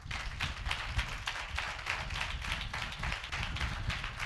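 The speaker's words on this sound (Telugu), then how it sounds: "చప్పట్లు కొట్టండి ఒకసారి గట్టిగా." A church congregation clapping loudly together, a dense steady run of hand claps continuing throughout without a break, close and energetic.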